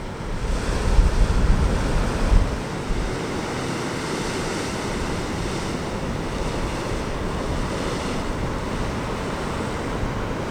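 Turbulent ocean water surges violently through a narrow rocky gorge on the Oregon coast, a loud continuous roar of breaking surf with a heavier crash near the start and wind buffeting the microphone throughout.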